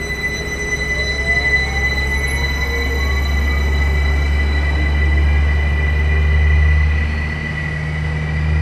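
A Viljandi train passes close by in Estonia with a heavy, steady low rumble that holds throughout, with high wheel squeals and faint whining tones over it and no talk.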